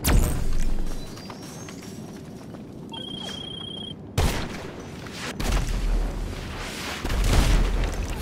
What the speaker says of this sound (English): this guy is spamming rockets